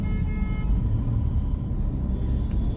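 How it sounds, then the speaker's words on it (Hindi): City road traffic in Delhi rumbles steadily, with low engine drone from cars and trucks close by and a faint horn toot early on, a continuous dense wash of noise without talk. "यार इतना ट्रैफिक है सच में भाई"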